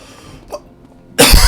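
A single loud, close cough bursts out near the end after a quiet stretch with a faint breathy sound midway.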